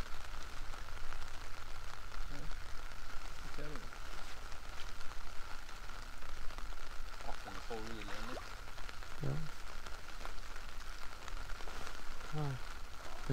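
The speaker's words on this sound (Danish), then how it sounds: "På grund af regn, så bliver jeg lige herinde." Rain falls steadily at a fishing lake, a constant patter on surfaces with faint voices and small sounds underneath.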